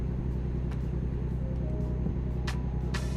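A heavy truck rolling past in American Truck Simulator, a steady low engine rumble with a faint hiss, no one speaking.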